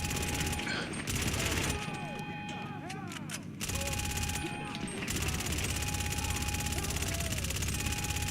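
Sustained gunfire from a full magazine being emptied in GTA 5 Online, a dense continuous burst of shots running through the whole stretch under loud game ambience, with brief dips in the racket.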